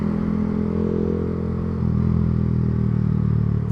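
A 2023 Yamaha R125 motorcycle hums in a steady low engine drone while being ridden, with wind rush over it. The pitch rises slightly partway through, and no one speaks.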